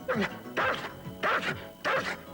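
A trained search dog barks in four loud, evenly spaced bursts after finding a hidden person, each bark close and sharp.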